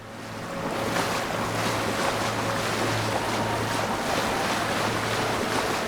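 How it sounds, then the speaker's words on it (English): Wading through a river in the game Avowed gives a steady, rushing splash and wash of water, loud and continuous, with a low hum underneath and no voices. "We're going to walk through the water here."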